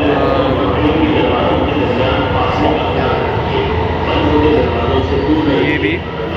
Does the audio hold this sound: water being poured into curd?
no